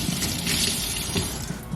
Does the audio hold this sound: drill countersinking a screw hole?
no